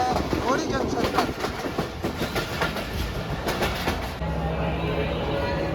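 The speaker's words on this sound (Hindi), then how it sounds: "तो हमारी ट्रेन पहुंच चुकी है रोड़ी जंक्शन पर।" The Pak Business Express passenger train pulls into Rohri Junction, with a steady close rumble of railcars and rhythmic clickety-clack of wheels over rail joints. The noise eases slightly toward the end, and faint background voices may be mixed in.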